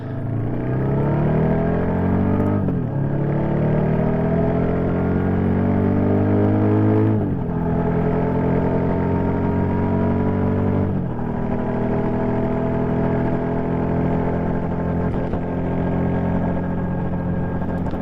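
A Royal Enfield INT650 twin-cylinder motorcycle accelerates hard through several gears, each loud rising engine pull cut by a brief dip at the shift before climbing again, close and sustained.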